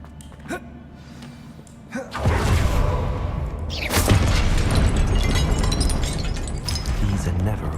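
Incendio fire spell cast in Hogwarts Legacy: a sudden roaring burst of flame erupts and then sustains, with a second flaring surge a couple of seconds later, loud over game ambience.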